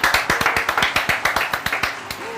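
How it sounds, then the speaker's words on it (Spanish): A small group claps in a quick, regular rhythm of roughly a dozen sharp, fairly close claps on a live studio show, with no talking over it. "¡Un aplauso!"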